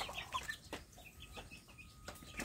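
Free-range village chicken chicks peep and cluck faintly in soft, scattered bursts at a farm coop, fairly distant and quiet with light rustling between calls.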